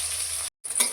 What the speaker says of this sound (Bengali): মাছগুলো 2 পিঠই ভাজা হয়ে গেছে, এবার মাছগুলোকে তুলে নেব।